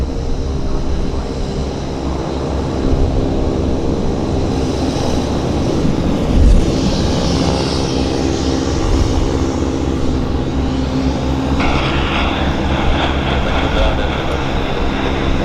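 Loud, continuous jet engine rumble and whine from a C Series airliner taxiing into position at Vancouver airport, steady throughout with a slight rise partway through.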